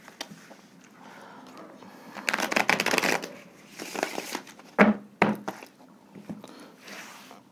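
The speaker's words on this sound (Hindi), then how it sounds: "कार्ड्स को एक बार शफल कर लूं।" Tarot cards being shuffled during a Hindi pick-a-card reading, a close, busy run of riffling and sliding card noise in bursts, with brief sharp snaps and pauses between.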